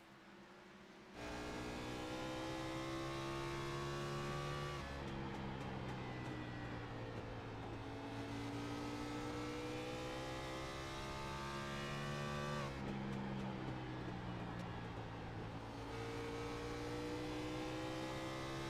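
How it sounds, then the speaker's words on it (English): Steady, loud video game racing car engine drone with rising and falling throttle pitch, revving up and easing off repeatedly for the whole stretch, no talking. "Just by the sound of his throttle and engine"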